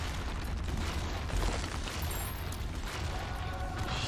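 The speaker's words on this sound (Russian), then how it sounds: "опять все взрывается" Explosions burst in the video game The Binding of Isaac: Repentance, a dense run of loud booms and pops piling over one another with no pauses.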